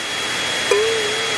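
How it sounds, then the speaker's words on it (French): A hair dryer blowing steadily at close range to melt chocolate during a kitchen cooking challenge, a continuous airy whoosh with a brief rise in pitch partway through. "Et maintenant, je vais le faire fondre avec un sèche-cheveux."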